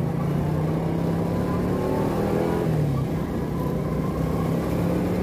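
An old Suzuki Shogun motorcycle engine runs steadily and revs up as the ride gets underway, a loud close drone with rising and falling pitch and no talking.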